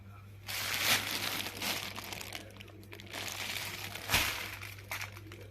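A plastic bag crinkles and rustles up close as peeled avocado is packed into it for freezing, in irregular bursts with two louder crackles.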